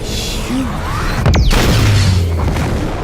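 Explosion in the Saints Row IV video game, a sudden booming blast with a whooshing sweep over dense game music and effects, followed by a low rumbling tail.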